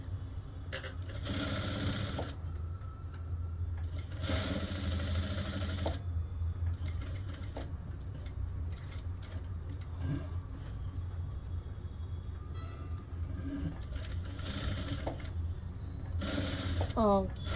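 A sewing machine stitches a blouse neckline in repeated bursts of rapid mechanical whirring, each run lasting a second or two, with quieter pauses between and a person talking throughout.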